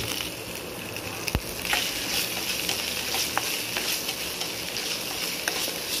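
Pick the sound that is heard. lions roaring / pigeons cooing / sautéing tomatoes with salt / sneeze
sautéing tomatoes with salt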